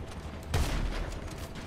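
Gunfire during a GTA 5 Online match, a short burst of sharp shots arriving abruptly after a quiet moment and then settling into a noisy rumble, fairly near and loud.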